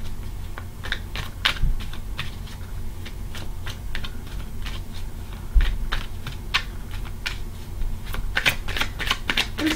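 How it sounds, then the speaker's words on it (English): A deck of tarot cards is shuffled by hand in a quiet room, producing rapid, crisp riffling bursts and soft flicks that repeat steadily, close to the microphone and alone. "I love the way these cards shuffle."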